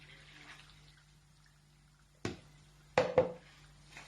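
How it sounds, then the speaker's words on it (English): Water poured into a mixing bowl holding crumpet batter ingredients, heard as a few short splashing bursts close to the microphone against a quiet room with a low hum. "Now we're going to pour this water in."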